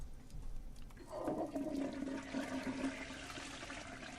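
A toilet flushes in the Deponia video game: a click and short rush of water, then a sustained gurgling swirl that slowly fades.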